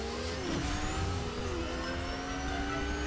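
Steady engine drone with rising whine, like cars and motorcycles accelerating in a racing game, continuous and loud with no talking.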